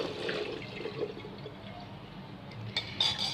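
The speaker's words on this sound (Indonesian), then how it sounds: "Kita tiriskan kacang metenya." Rinsed cashew nuts draining in a strainer, water trickling and dripping steadily nearby, ending in a few louder splashes and rattles.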